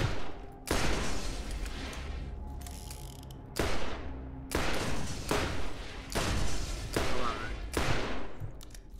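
Bursts of video-game gunfire in Borderlands during a fight with skags, several sharp volleys starting abruptly and trailing off, separated by short quieter gaps.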